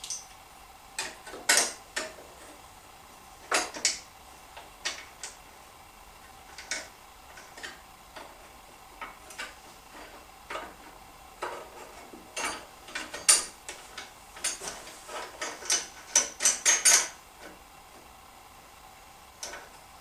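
Scattered light clicks and ticks come from fitting a device onto a Metabo BAS318 band saw and unscrewing its knob, with sharp isolated taps spaced irregularly over a quiet background.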